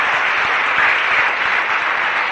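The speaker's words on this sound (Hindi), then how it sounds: "इसके लिए भी जोरदार ताली।" Loud, dense applause from an audience at a motivational talk, a steady wash of many hands clapping close and continuous for a couple of seconds without speech.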